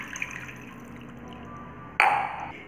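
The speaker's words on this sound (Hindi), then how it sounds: "अब हम इसमें एक गिलास पानी डालेंगे" After a stretch of quiet room hiss, a glass of water is poured over half a kilo of chicken being prepared for spicy roasting, making a short, close splashing pour that fades within about half a second.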